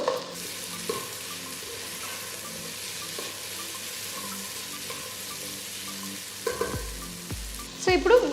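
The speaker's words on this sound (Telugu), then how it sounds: "సో కాలీఫ్లవర్ పీసెస్ని వేసిన తర్వాత బాగా మిక్స్ చేసేయండి" Cauliflower pieces are stir-fried and mixed in a pan for Andhra-style veg pulao, giving a soft continuous sizzle with occasional light scrapes and louder clattering stirs near the end, close by.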